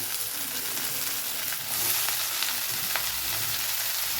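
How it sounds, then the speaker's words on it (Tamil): Black nightshade greens go into a pan of onion and dried red chili frying in oil for a South Indian poriyal, making a dense, loud, continuous sizzle with some scraping as the mix is stirred. "இப்போ நான் மிளகு தக்காளி கீரை எடுத்துக்கிறேன் போட்டுக்கிறேன்"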